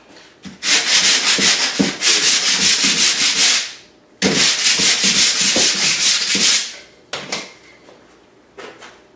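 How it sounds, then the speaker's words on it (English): Sandpaper scrubs over a patched laundry room wall in rapid back-and-forth strokes, loud and close, in two long bursts followed by a few shorter rubs. "just get some sandpaper and go in and sand it a little bit"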